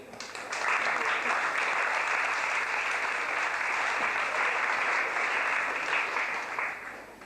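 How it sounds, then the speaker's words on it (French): An audience at a Decathlon store inauguration in Mâcon breaks into steady applause that builds quickly and holds evenly for several seconds before tapering off. "Je vous demande d'applaudir Isabelle Rochette"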